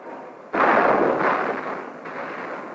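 A heavy blast from mortar fire during the Battle of Khe Sanh in the Vietnam War erupts suddenly and loud, then rolls into a rumbling decay with a second, weaker boom near the end.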